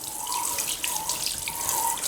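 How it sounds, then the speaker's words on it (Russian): Cold tap water runs steadily while herring is rinsed under it, a close continuous splashing stream with a faint tonal ring and no talk. "начинаем промывать под водой. Под холодной проточной водой споласкивая всю рыбу."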